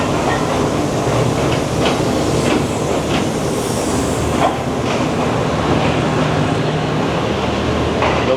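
A passenger train hauled by GEU40 locomotive 9050 on Pakistan's 5 Up Green Line rumbles past with a dense, continuous roar and rhythmic wheel clatter, steady and fairly close throughout.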